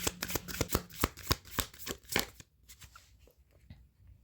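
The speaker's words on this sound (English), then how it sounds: "this deck just shuffles so good" A deck of oracle cards being shuffled close up: rapid crisp riffling clicks and slaps for about two seconds, then quieter scattered card taps, with no talking.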